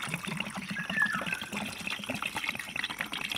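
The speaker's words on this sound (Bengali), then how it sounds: "এবার আমি 1 লিটারের মতন এখানে জল দিয়ে দিব।" About a litre of water trickles and splashes steadily into finely ground almond paste, a close, soft liquid pour that continues without a break and with no talking.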